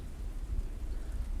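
Steady rain and wind in a video game town wash along as a continuous low rumbling hiss, close and even, with no talk.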